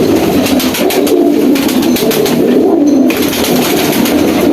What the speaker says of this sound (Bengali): এটা সম্ভবত হাই ফ্লায়ার টেডি কবুতর হতে পারে